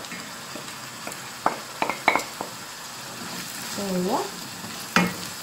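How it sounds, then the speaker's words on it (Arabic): Sliced mushrooms and broccoli fry in a pot, giving a steady sizzle while a utensil scrapes and knocks against the metal several times. One short spoken word and a brief tonal squeak sit under the cooking noise. "هانتوما كتشوفو من بعد ما تشحر الشامبينيون شويه ونزل غادي نضيف البروكولي"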